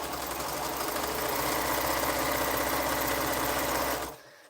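A sewing machine stitches a quilt block piece in one steady, loud run of motor hum and needle chatter lasting about four seconds, then stops abruptly.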